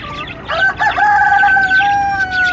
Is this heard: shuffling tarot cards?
no